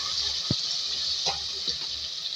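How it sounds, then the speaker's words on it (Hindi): Water is poured into a pan of spiced masala while dhaba-style aloo turai cooks, giving a steady hissing, sizzling wash with a few brief splashes, heard close without talk. "तो पानी ऐड करेंगे, इसकी भुनाई करेंगे।"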